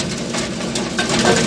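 Vibra 1 sheller machine working through mixed hickory nuts, a loud steady mechanical hum and rattle with irregular clatter of cracking shells and a faint whine, no voices.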